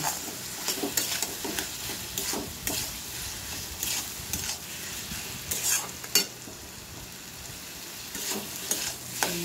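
Potato masala being stirred in a pan, a continuous low sizzle under repeated scraping and stirring strokes with an occasional sharper clink of the spoon, no voices.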